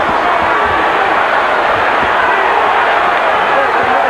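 A dense, loud roar from a packed arena crowd cheering at a Floyd Mayweather Jr. versus Jesus Chavez boxing fight, a continuous wall of noise with no breaks.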